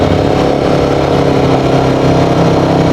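A manual motorcycle climbs uphill in second gear, its engine sending a loud, steady mid-pitched drone with a rough, rumbling texture, heard up close and continuous, with no speech over it.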